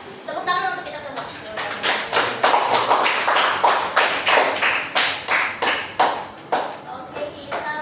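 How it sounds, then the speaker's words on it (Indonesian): Students in a classroom clap together in a burst of applause. At first the claps are dense and overlapping, then they thin into a series of separate, fairly close claps. Voices can be heard underneath. "Tepuk tangan untuk kita semua"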